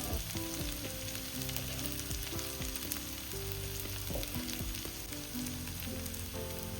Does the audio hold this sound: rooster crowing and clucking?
no